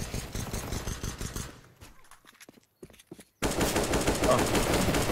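AK rifle fire in the shooter game CS:GO: rapid automatic bursts, close and loud, broken by a brief quieter gap before heavy firing resumes.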